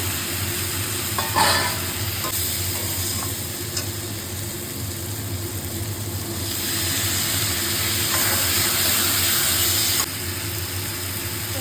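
Spices sizzle and hiss in hot oil while a spoon stirs and scrapes through them for a rohu fish curry, a steady frying sound with occasional louder clinks.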